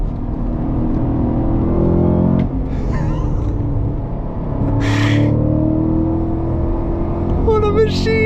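A Cadillac CT5-V Blackwing's engine drones as a deep, steady rumble from inside the car, easing briefly before building again, while a person talks over it in short bursts.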